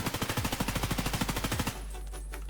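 Sustained automatic fire from an M4A1 rifle in Escape From Tarkov, a rapid even burst of about twenty loud close shots lasting under two seconds, then a short tail as the firing stops.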